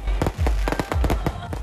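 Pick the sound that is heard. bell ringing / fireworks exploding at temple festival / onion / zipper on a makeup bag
fireworks exploding at temple festival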